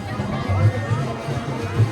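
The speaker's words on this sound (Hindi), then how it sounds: "बहुत ज़्यादा भीड़ लगल बाटे भाई" A large crowd at a fair near a temple, with a dense murmur of many voices and shuffling bustle, close and continuous, and people talking throughout.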